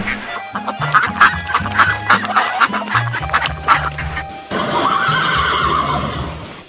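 A horse neighs loudly and close, its whinny broken into repeated pulses, while chickens cluck alongside and a steady noisy background takes over near the end.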